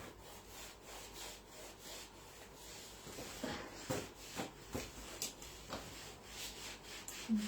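Abrasive rubbing down of a freshly lime-skimmed bathroom ceiling, a steady scratchy rasp with repeated back-and-forth strokes that grow firmer and more rhythmic halfway through, close and alone without talk.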